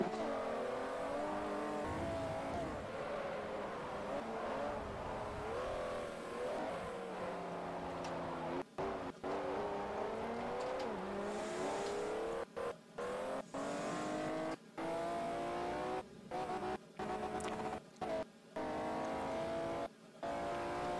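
A 2009 Mercedes-Benz SLR Stirling Moss roars through a racing video game, engine revving up and down continuously with rising and falling gear pitches, broken by several brief abrupt cutouts near the end.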